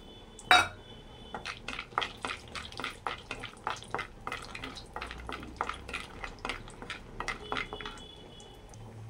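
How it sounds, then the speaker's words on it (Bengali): Cashews frying in ghee in a pan make a soft, quiet sizzle under repeated light clinks and scrapes of stirring, with one louder clatter near the start. "কিছু কাজু ভেজে দিব আমি।"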